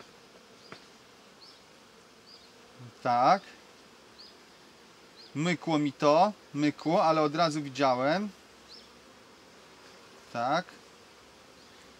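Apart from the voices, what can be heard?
bees buzzing during hive inspection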